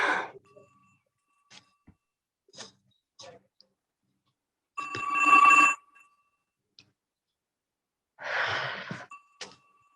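A telephone rings in bursts after a number is dialed, two long electronic trills set against scattered clicks and soft sighs in otherwise near-silence.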